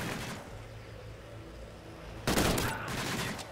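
Bursts of gunfire in a shooter video game, a steady low rumble of shots that erupts into a loud, dense volley partway through.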